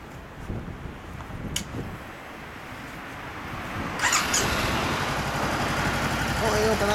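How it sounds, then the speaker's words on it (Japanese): A 2014 Honda CBR400R motorcycle engine starts with a sharp crank around the midpoint, then settles into a steady low idle. Wind and background noise run throughout. "準備終わったら言うてエンジンかけてもらうから。"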